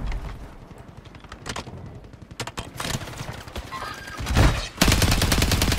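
Gunfire in the Warzone video game crackles in rapid, dense bursts of shots, building to louder, sustained firing near the end.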